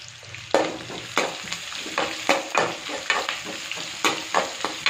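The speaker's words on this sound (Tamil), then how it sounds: "எண்ணெய் ஹீட்லேயே நல்ல சீரகம் பொரியுது." Cumin seeds crackle and fry in plenty of hot oil in a pan, a close sizzle broken by repeated sharp popping bursts and scrapes at an uneven rhythm, with no voices.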